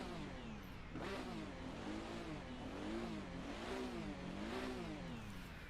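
Corvette C8R race car in Assetto Corsa, its engine revving up and down in steady rising and falling sweeps throughout, loud and continuous with no talk.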